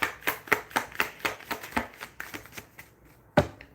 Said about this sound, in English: If I shuffle this deck 3 times and nothing comes out, I take what's on the bottom.